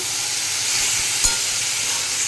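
Potatoes sizzle steadily in a hot pan as they are stir-fried for a jackfruit seed vegetable curry, a dense frying hiss close by with a single soft knock of a utensil midway.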